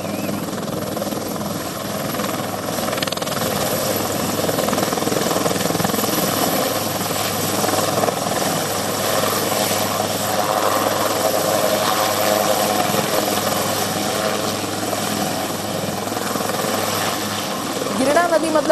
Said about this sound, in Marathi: या हेलिकॉप्टरच्या सहाय्याने या तरुणांचं रेस्क्यू ऑपरेशन जे आहे ते सध्या केलं जात आहे